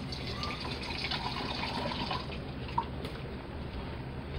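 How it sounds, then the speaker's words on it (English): Water trickles faintly into a pot of stew base for chicken gizzards and livers, a soft, continuous pouring with light splashing and one small drip near the end. "So I got my little base and put a little water in here."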